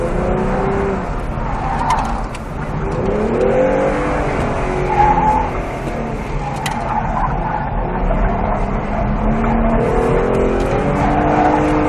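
A stock Ford Mustang is driven hard at a motorsport event, its tires squealing continuously under a steady, loud engine roar that stays close for the whole stretch.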